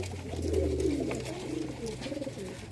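Madras pigeons cooing at a house in Mecheda, East Medinipur, low steady coos carrying throughout, fairly close with a soft background hum.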